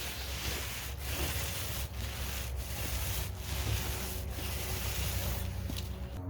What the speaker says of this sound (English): my guy is applying the air barrier on the plywood